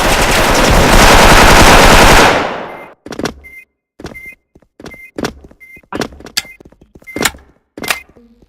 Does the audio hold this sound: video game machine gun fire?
yes